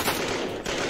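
Rapid automatic gunfire sound effect from a narrated Thai action drama: a dense, loud, continuous burst of shots with no speech over it.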